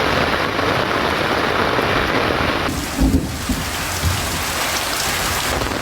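Heavy daytime rain pours down steadily in Trincomalee district, Sri Lanka, a dense, loud wash of drops on surfaces with a low rumble of thunder partway through.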